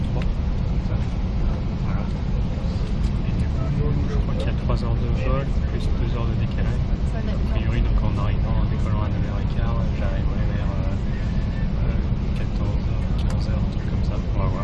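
Steady low roar and hum inside an Air New Zealand airplane cabin, a dense, unbroken drone filling the space with people talking over it throughout.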